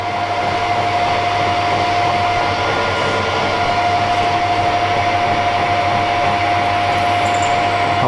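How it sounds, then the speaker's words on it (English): Drill press boring through steel with a 7 mm drill bit, a loud continuous motor whine with a steady high tone, constant and close without breaks. "I drilled through with that 7 millimeter sharp drill down to 36"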